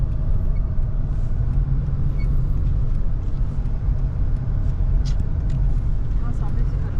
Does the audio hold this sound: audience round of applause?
no